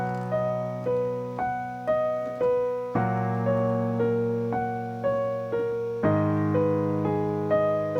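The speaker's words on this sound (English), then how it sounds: "we're gonna be doing these descending arpeggios" Piano accompaniment for a song, played as descending arpeggios over each chord, slow and steady, with a fresh low bass note every three seconds and decaying upper notes stepping downward, alone without talk.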